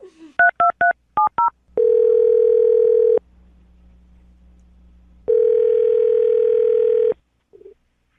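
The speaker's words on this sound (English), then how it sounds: "I'm going to dial the phone number right now, see if we can get her on the phone" A phone number is dialed as a quick run of touch-tone beeps, followed by two long steady telephone tones separated by a low hum, all loud and clear.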